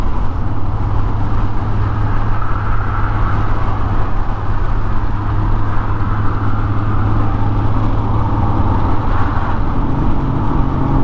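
Steady engine drone and road rumble fill the cabin of a Triumph TR6 cruising on a road trip in convoy, loud and unbroken with no talking.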